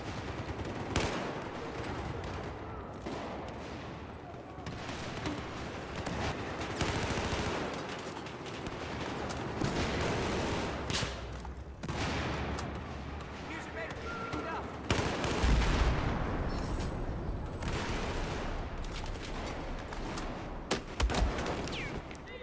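Gunfire in the PC game Battlefield 4: dense, continuous shooting with bursts and heavier explosive blasts from near and far, filling the scene while a player talks throughout.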